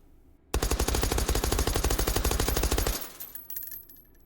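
A suppressed M1 carbine fires in the H3VR video game: a rapid, evenly spaced burst of muffled shots lasting about two and a half seconds, then quiet mechanical clatter.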